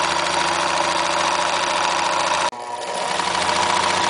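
A sewing machine stitches the waistband of a rag doll skirt in a close, steady mechanical whir with fast regular pulsing. It cuts out abruptly partway through, then restarts and continues running.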